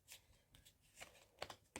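Quick bursts of tarot cards being riffled and shuffled, several short crisp flutters in a row, close and fairly quiet.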